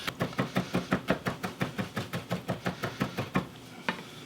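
A knife finely chopping garlic cloves on a board, about twenty quick, evenly spaced close chops that stop near the end, followed by one last knock.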